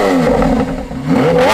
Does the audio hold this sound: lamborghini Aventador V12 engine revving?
yes